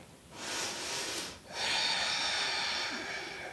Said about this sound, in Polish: jeszcze dwa oddechy.